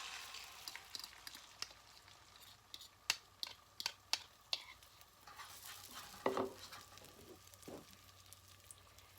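Eggs fry in a camping pan outdoors at Moab, a soft steady sizzle broken by sharp scraping and tapping of a utensil stirring against the pan, several clicks in a row, quiet and close.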